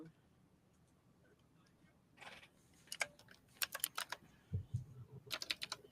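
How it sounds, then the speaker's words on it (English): Keyboard typing picks up partway through, a run of quick, uneven clicks and taps close by after a quieter start, with a low murmur of voices and room noise underneath. "Because he typing."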